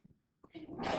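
A single sharp sneeze bursts out during a statistics class lecture after a brief quiet pause, fairly close and moderately loud.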